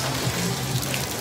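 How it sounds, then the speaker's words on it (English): Steady rain falling in Memphis before a baseball game, a dense continuous hiss with low hum beneath, moderately loud and unbroken, with no talking. "There's a baseball game about to happen, and it's raining"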